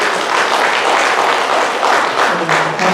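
A church congregation applauds in welcome, steady dense clapping filling the room at close range and fairly loud throughout, with no break.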